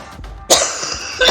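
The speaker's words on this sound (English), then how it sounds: "Sorry about the cough." A single sharp cough bursts out close and loud, followed by a softer rasp and a brief second throaty catch, from a woman troubled by allergies and asthma.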